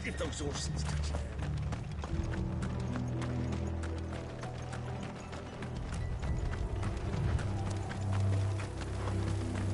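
Horses gallop in the Final Fantasy 16 video game, a dense, steady clatter of hoofbeats under a low rumbling score.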